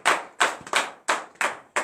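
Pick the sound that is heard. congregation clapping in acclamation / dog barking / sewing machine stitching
congregation clapping in acclamation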